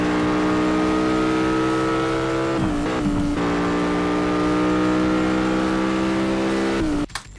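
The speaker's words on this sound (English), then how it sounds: "I took the liberty of recording some of the engine sounds in the game to see what are their volume levels" Race car engine in Asphalt 8, loud and sustained with a steady tonal drone, briefly dipping on gear shifts around the middle, then revving on before a sharp cut near the end.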